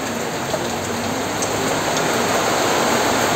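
Heavy, steady rain pours without letup, a dense hiss of drops drumming on surfaces, loud and close.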